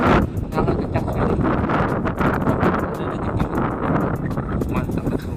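Strong, gusting wind at sea buffets the microphone during a fishing trip, a steady loud rumbling roar with no pause, full and close throughout.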